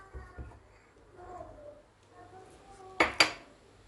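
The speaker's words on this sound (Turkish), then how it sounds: "ilk olarak kaşıkla karıştırıyorum" Dough of flour and egg mixed with a spoon in a bowl, soft scraping early on, then two sharp, loud clinks of the spoon against the bowl near the end; a faint voice murmurs in the background.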